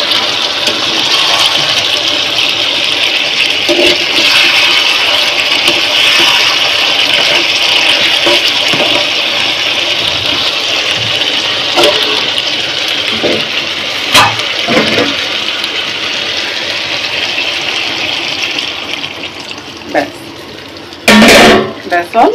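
Broth poured into a cooking pot makes a steady, loud rushing wash of liquid that runs almost continuously, with a few metallic clinks and a sharp knock near the end.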